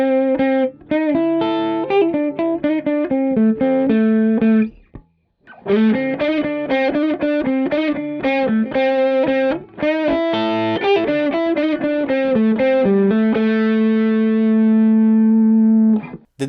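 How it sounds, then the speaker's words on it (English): An electric guitar played through an overdrive pedal, with a bluesy bite, plays a run of chords and single notes. The strummed phrases are loud and gritty, with brief pauses, and the clip ends on a long, ringing sustained note. "Overdrive pedals are the most tame out of these three, and they're very popular amongst blues musicians."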